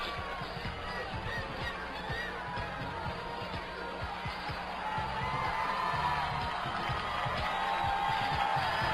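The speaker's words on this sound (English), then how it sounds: "The crowd seems to be getting into it. Listen to it." Spectators at the 2013 Mr. Olympia bodybuilding finals keep up a loud, continuous wash of cheering and shouting in a large hall, growing slightly louder toward the end.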